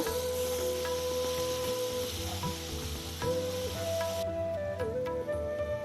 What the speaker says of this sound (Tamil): வதங்கின பிறகு இந்த தக்காளியை சேர்த்துக்கோங்க ரெண்டு தக்காளி இதை நல்லா வதக்கிக்கோங்க